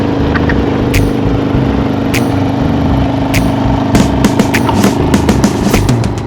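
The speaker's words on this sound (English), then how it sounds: "This is my 2019 Softail Lowrider." A 2019 Harley-Davidson Softail Lowrider motorcycle engine running steadily with a deep, even rumble, close and loud, with light clicks and taps over it and no talk.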